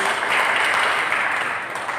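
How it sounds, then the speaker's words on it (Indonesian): A church congregation at a Sunday worship service claps together, a fairly loud, dense burst of applause that holds steady for a couple of seconds without talk. "Berikan tepuk tangan bagi Yesus."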